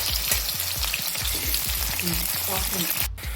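Chopped onions sizzle steadily in hot oil, frying toward golden brown, with a dense, continuous crackle and a few faint stirring scrapes throughout.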